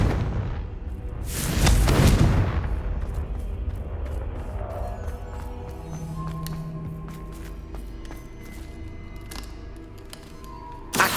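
Confringo blasting spells explode in the Hogwarts Legacy video game: one heavy, loud boom rolls out early, followed by a scattering of sharper cracks and thuds over a lingering rumble.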